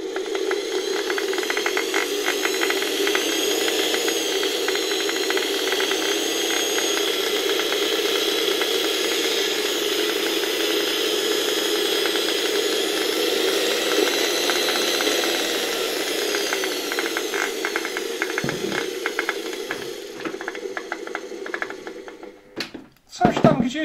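The motor of an antique Electrolux 7 vacuum cleaner runs with a steady whirring hum and a faint rubbing, knocking quality, then winds down near the end with a few clunks.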